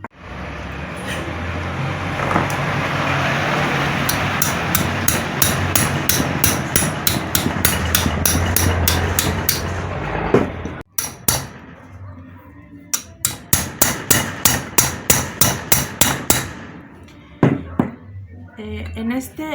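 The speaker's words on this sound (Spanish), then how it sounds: "si le sigo dando golpes, lo puedo quebrar el tornillo o esta pieza, porque este es de aluminio" A hammer striking a screw on an aluminium centrifugal water pump, with rapid repeated metallic blows over a steady motor-like hum, then a second run of sharp evenly spaced strikes, loud and close.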